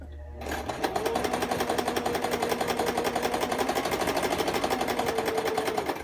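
A sewing machine stitches right along the folded edge of a skirt hem, starting after a brief pause and then running in a fast, even mechanical chatter at close range with no talking.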